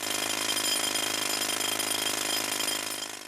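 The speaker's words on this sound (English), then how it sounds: "115 decibels of continuous noise from a jackhammer" A jackhammer pounds continuously, producing a dense, harsh rattling roar with a fast pulsing texture that stays loud and unbroken before tapering slightly at the end.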